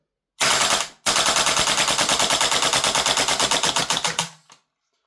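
WellPro AK12 gas blowback airsoft rifle firing on full auto, a very brief burst, a short pause, then a long, loud, rapid stream of sharp cracks at an even rhythm that trails off as the gas runs out.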